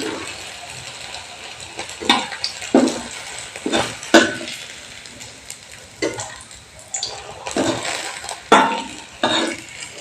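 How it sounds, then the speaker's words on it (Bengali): Banana blossom kofta balls going into hot oil to fry for a curry, with repeated sizzling bursts as each ball drops in, set against clinking utensils in a kitchen, loud and close. "এবার বাকি বড়াগুলো তেলের মধ্যে আমি অ্যাড করে দিচ্ছি ভালো করে ভাজার জন্য"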